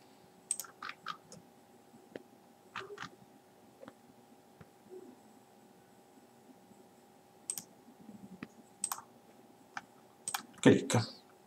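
A computer mouse clicks while drawing a floor plan in design software: sharp, sparse single and double clicks scattered irregularly over a quiet background with a steady low electrical hum.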